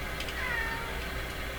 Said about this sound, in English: That's a cat knocking at my door.